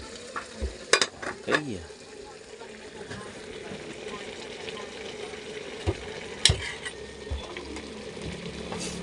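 Pork adobo with string beans boils in a pot on the stove, a low bubbling simmer broken by a few clanks and scrapes of stirring, with a brief spoken word over it.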